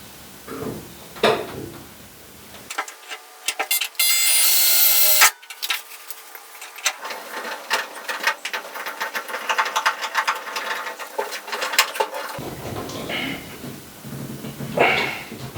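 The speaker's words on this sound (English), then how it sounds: "we're going to need to use the self-tapping screw to make an additional hole" A power driver whirs in short bursts as a self-tapping screw is driven into metal to mount a dryer on a wall, with grinding and rattling between the runs.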